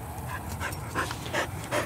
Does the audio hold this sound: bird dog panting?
yes